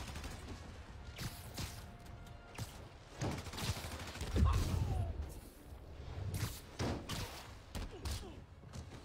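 Gunfire in the Spider-Man PC video game: a dense, busy mix of repeated shots, thumps and whooshes, loudest around the middle, with sharp bursts recurring throughout at close range.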